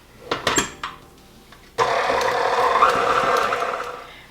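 A stand mixer with a paddle attachment creams butter, running as a loud, steady whir after a few brief knocks and clatters at the start.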